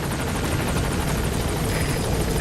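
The support helicopter Pequod from Metal Gear Solid V arrives with a loud, steady rotor roar and rapid rhythmic blade chop, up close and continuous, with no voices.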